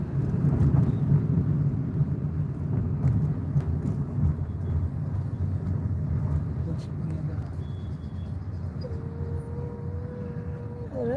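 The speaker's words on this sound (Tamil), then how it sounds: "ஒரே டிராஃபிக் மயமா இந்த ரோடு." Busy road traffic rumbles continuously, with a horn sounding near the end and people talking over the noise.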